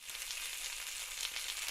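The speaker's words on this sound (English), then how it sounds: "You hear that sizzling? That means something's cooking." Bacon frying in a pan hisses in a steady, bright sizzle, fairly quiet and close, with faint crackles and no talking over it.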